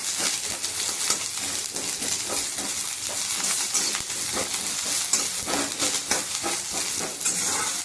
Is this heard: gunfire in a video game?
no